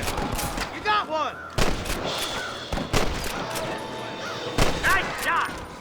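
Gunshots crack in Red Dead Redemption during a fight at a camp, several loud sharp reports spaced through the clip alongside voices talking.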